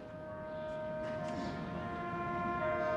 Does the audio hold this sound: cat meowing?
no